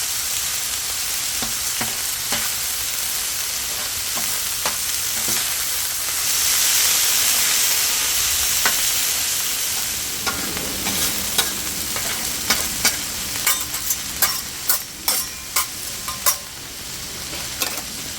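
Ground beef for homemade dog food sizzles steadily on a Blackstone griddle, a dense frying hiss throughout, followed by a series of sharp, evenly spaced scraping and chopping strokes from a spatula near the end.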